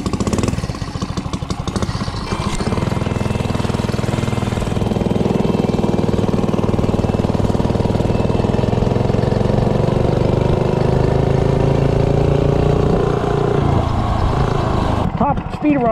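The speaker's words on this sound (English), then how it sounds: "Top speed run, stock carburetor." A Coleman 3hp minibike on a top speed run with its stock carburetor, its small engine droning loud and steady at high revs throughout, close to the microphone and unbroken by talk.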